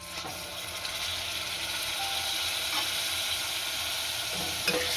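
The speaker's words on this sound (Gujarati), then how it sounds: "આ ઝીણા સમારેલા ટમેટા નાખીશું" Finely chopped tomatoes frying with onion and garlic in a pan for a green pigeon pea dish; a steady, faint sizzle hiss throughout, with a couple of light utensil clicks near the end.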